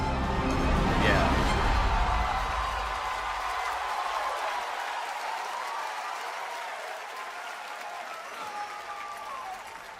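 A crowd at Summer Game Fest, a live gaming event, cheers and applauds loudly, with a burst that gradually tapers into sustained clapping while people talk over it.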